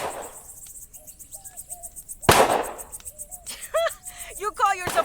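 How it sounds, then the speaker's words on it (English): Two sharp bursts of video game gunfire, one near the middle and one at the very end, stand out among chirping, warbling electronic tones. "Would you knock it off with the shooting already?"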